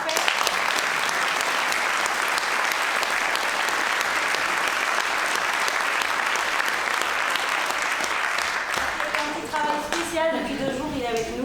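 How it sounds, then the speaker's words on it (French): Sustained theatre audience applause fills the hall, loud and steady with dense clapping, before a voice begins talking over the fading claps near the end. "Vous pouvez applaudir en avance"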